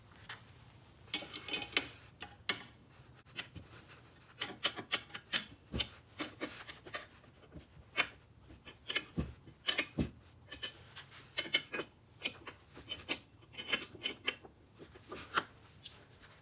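Bolts on a QR3 assembly are tightened with an Allen wrench and a 13 mm wrench, giving quiet, close, irregular metallic clicks and ratcheting ticks scattered throughout, with faint handling rubs between them.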